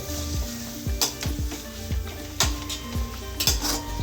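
Biryani masala sautéing in a kadai: a steady sizzle under repeated metal scrapes and clinks of a spoon stirring against the pan, close and fairly loud, with no talking.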